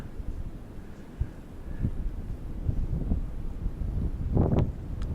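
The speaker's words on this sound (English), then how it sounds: "Wind's really moving over this mountain too." Wind blowing over a mountain summit on a day hike along the Appalachian Trail from Woody Gap to Gooch Gap, a steady low rumbling roar buffeting the microphone with a stronger gust near the end.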